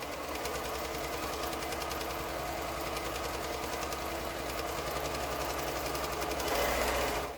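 A sewing machine stitching a quilt strip runs in a steady, fast mechanical whir with a rapid even needle rhythm, loud and close, continuous throughout with no talk.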